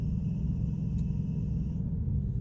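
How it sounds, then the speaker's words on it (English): A truck auxiliary power unit runs with a noisy belt, giving a steady, close engine rumble with a constant thin squeal held above it throughout. "boy, that belt's making a lot of noise on that APU"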